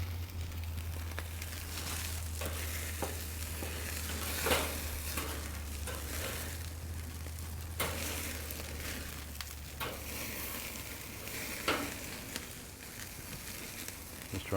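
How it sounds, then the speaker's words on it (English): The edge of a Wagyu tomahawk steak sears on an outdoor grill with a steady, close sizzle over a low hum, broken by occasional crackles and pops. "Just trying to get picky with the one edge that needs a little bit of sear there yet."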